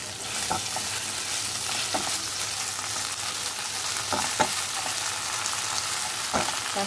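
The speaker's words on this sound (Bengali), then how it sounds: "এবারে আমি দেবো আদা আর টমেটোর বাটাটা" Onions frying in a pan as ginger and tomato paste are added for vendi dopiaza, a steady close sizzle with occasional stirring clinks, no talk.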